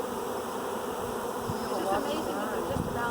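Bees buzz densely and continuously around hive boxes at a ranch, a close steady hum with individual insects whining past, while people talk faintly in the background.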